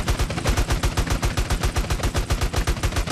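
A weapon fires in rapid automatic bursts in GTA San Andreas, as loud, evenly spaced shots repeat quickly and continuously throughout with no speech.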